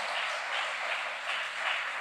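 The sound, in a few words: congregation applause in church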